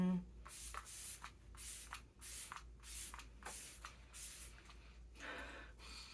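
Makeup setting spray misted in a series of short hissing bursts, several quick sprays in a row, close and fairly loud, with light breathing and handling noise around them.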